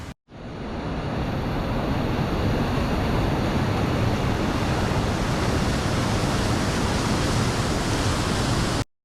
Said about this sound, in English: This unnamed 80-foot plunging waterfall